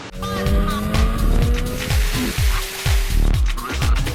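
A 2011 Kawasaki Ninja ZX-10R motorcycle being ridden, its engine revving hard through repeated rising sweeps with quick shifts between them, loud and close, with wind rush and a faint voice.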